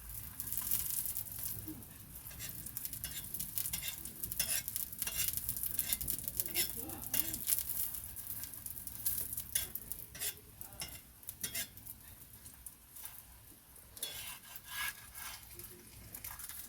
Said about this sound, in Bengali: তোয়াটা চাপিয়ে দেব তাওয়াতে অল্প অল্প করে তেল দিয়ে ভেজে নেবো